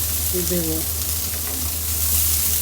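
Ginger paste frying in a cooking pot, a steady broadband sizzle running throughout with a low hum underneath and a brief voice-like tonal sound partway through.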